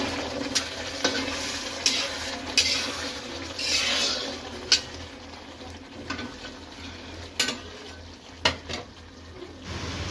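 Kadai paneer stirred in a pan with a spatula, scraping and tapping against the metal in scattered sharp knocks over a low, steady sizzle, with no voices.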